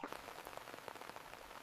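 Rain falls steadily on a campsite, a dense, soft patter of drops tapping a surface, continuous and faint with no voices.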